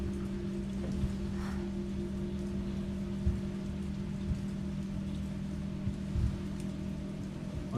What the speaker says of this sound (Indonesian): Oh lagi hujan coy, lagi hujan ya.